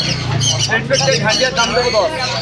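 Pet birds for sale at a pet market in Serampore squawk and chirp in short, sharp calls close by. Voices talk over them the whole time.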